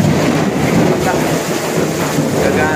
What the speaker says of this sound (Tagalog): yung ulan sa labas, walang tigil